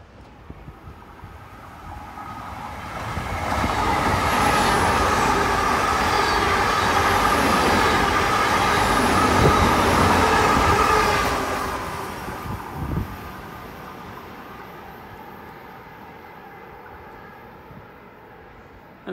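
A Great Western Railway Class 802 train on the Penzance to London Paddington service passes at Dawlish Warren, its roar swelling to a loud, steady rumble for several seconds before fading away into quiet outdoor ambience.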